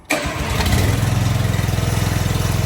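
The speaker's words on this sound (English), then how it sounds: "So now, how do we start that engine up?" An IMER Gerris 800 engine cranks and catches, then settles into a steady, rapid idling putter, loud and close, with no talk.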